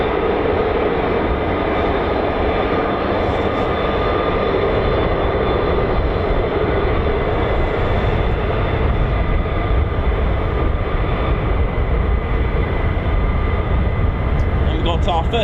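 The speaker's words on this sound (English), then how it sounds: "we've got our first arrivals just now using Point Charlie. Looks like F-15s." F-15 fighter jets arrive at RAF Lakenheath with a loud, steady jet roar that fills the whole stretch, a dense continuous rumble and hiss with no break.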